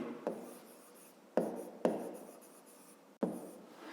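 Handwriting during a Grade 5 maths lesson, with a few separate scratchy pen or chalk strokes, short bursts that fade between them, close and soft with no voices.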